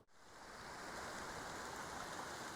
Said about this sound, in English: this little stream that's running off from Solitude Lake down to Shelf Lake is called Shelf Creek